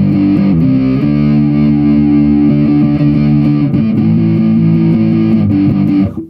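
Distorted electric guitar through a Zoom G3Xn patch with speaker and mic simulation, chords strummed and held loudly throughout with a few changes and no talking.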